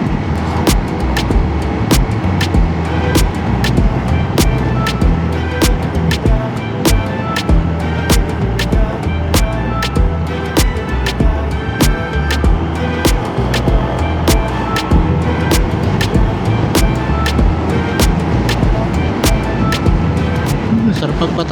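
A Honda PCX 160 scooter cruises a straight, quiet open road near Dingalan, Aurora, its steady engine drone mixing with constant wind rush and regular rhythmic clicks throughout.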